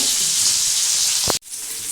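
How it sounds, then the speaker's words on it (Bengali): Loud, continuous sizzle of onions frying in a pan, with a short bump just before a brief cut, then the sizzling resumes. "এখানে পেঁয়াজটা ভাজা হচ্ছে"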